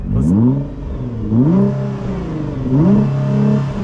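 A Nissan GT-R engine revs three times in quick succession, each rise and fall loud and close, with a steady idle rumble in between and no talk.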